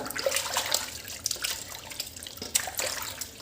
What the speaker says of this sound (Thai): พอเราล้างมะกรูดเสร็จแล้วก็ล้างน้ำเปล่าอีกทีนึงนะครับ